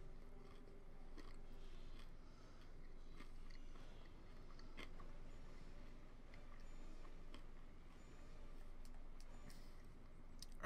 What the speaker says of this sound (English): I really hope you can't hear me chewing on the mic.